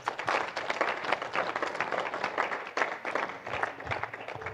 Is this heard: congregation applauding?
yes